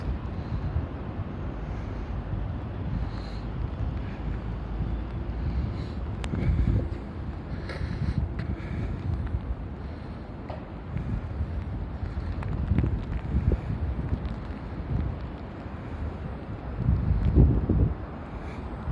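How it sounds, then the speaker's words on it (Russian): Strong gusty wind blowing during heavy snow and sleet in Moscow, a steady broadband roar with louder gusts around the middle and near the end, buffeting the microphone throughout. "Ветер сильный, крупа."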